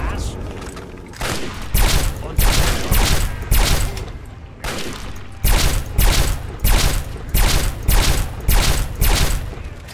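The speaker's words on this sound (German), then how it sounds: "Wir greifen schnell zu unserem Lasergewehr." Laser rifle fire in the video game Fallout 3: loud, rapid bursts of repeated shots in quick rhythmic clusters with brief pauses between volleys, close and dominant.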